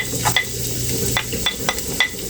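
Garlic fries in hot oil for sisig with a steady crackling sizzle. Repeated scraping strokes and light taps of a utensil against the pan come through close up.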